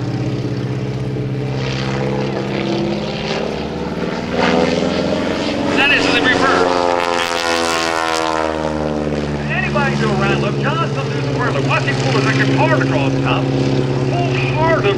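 A propeller-driven aerobatic airplane performs loops and inverted passes at the 2010 New Garden Airshow, its engine droning loudly and steadily with a rising and falling pitch throughout, while a commentator talks over it.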